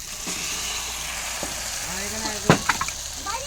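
Fried spice mix sizzles steadily in a pan at home while a Bengali lentil and pumpkin porridge is cooked, with a constant hiss and a few clatters near the end.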